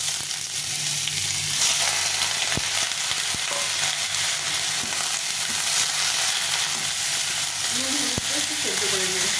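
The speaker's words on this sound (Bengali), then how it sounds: "এখন লাউ খোসাটা অল্প করে ভেজে সিদ্ধ করে নেব।" Bottle gourd peel frying in a little oil, a dense, close, steady sizzle with intermittent stirring clatter and a faint voice briefly near the end.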